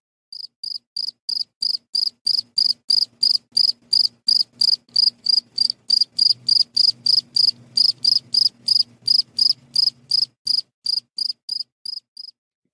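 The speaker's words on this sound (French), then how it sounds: "vous aurez retenu, reconnu probablement le son des grillons" Steady, rhythmic cricket chirps repeat in regular pulses for the whole stretch, clear and fairly close, with a faint low rumble underneath partway through.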